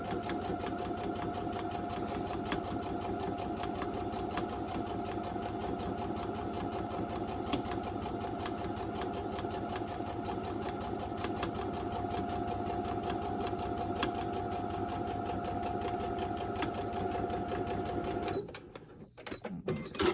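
A sewing machine stitches a quarter-inch seam on a disappearing four patch quilt block, a steady continuous mechanical hum with rapid needle rhythm, close and fairly loud, running alone until it stops abruptly near the end.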